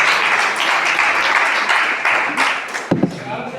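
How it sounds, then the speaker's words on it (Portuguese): Church congregation clapping hands in praise during a sermon, a dense continuous patter of clapping that fades slightly before a brief voice cuts in near the end. "pode louvar Jesus das palmas"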